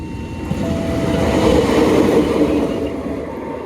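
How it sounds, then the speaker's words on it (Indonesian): A lone locomotive travels fast along railway tracks, heading to Rewulu for fuel-transport trains. It makes a loud, continuous rumble with rattling wheels that swells and then eases slightly as it passes, and no one speaks. "Ini ada lokomotif kayaknya dikirim ke Rewulu ya teman-teman, buat kereta angkutan BBM."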